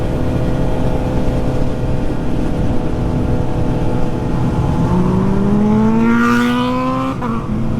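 Several sport motorcycles, including a Z900 and a CBR 600F, accelerate hard along a mountain road: a loud, close engine roar with pitch climbing steadily through the gears, with no talk.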